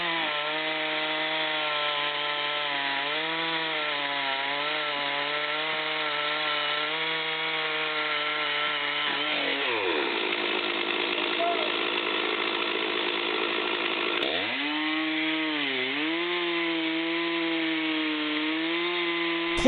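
Chainsaw cutting through a huge tree, a steady loud engine drone that bogs down lower mid-cut for several seconds before revving back up, continuous and close with no voices.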